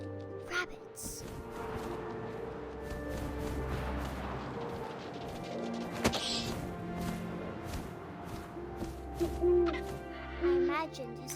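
An owl hoots in the video game What Remains of Edith Finch, a few soft low hoots late in the stretch over wind-like ambience, thuds and a speaking voice.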